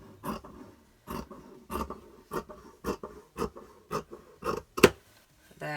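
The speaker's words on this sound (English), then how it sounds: "I'll just take it to the nearest coloured edge and cut along there" Scissors cut along the coloured edge of an old knitted sweater in a steady series of about a dozen close, crunching snips, evenly spaced and clearly heard.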